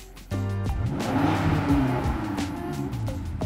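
A BMW M5 with a modified exhaust is revved hard past 4,000 rpm, a sudden loud rising engine roar that holds steady and dominant for about three seconds without any talk.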